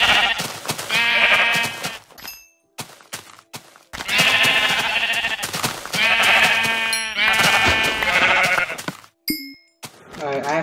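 Sheep in the video game Minecraft bleat repeatedly in loud, close, wavering calls, overlapping in bursts with brief gaps and a few small chimes between them.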